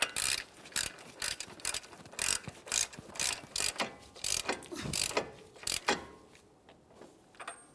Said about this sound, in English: We can snug this up using a hand tool,